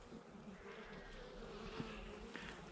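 Honeybees buzz in a dense, steady drone while a hive is opened and checked in late autumn, quiet and continuous with a few faint knocks beneath the hum.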